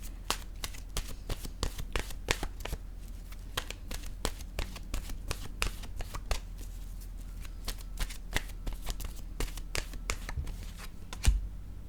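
Oracle cards being shuffled and drawn, a rapid run of crisp riffling flicks and slaps close to the mic, irregular bursts with brief pauses, with no voice.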